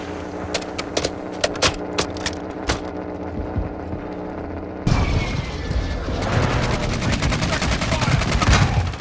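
Gunfire in Call of Duty Warzone on the Al Mazrah map: scattered loud shots and bursts ring out, then a dense sustained barrage of rapid fire and booms takes over.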